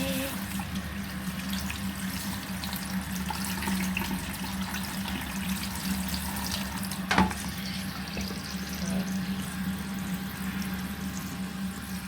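Tap water runs steadily over minced chicken being rinsed in a sink, a low continuous flowing rush with one brief clunk partway through, fairly quiet and without talk.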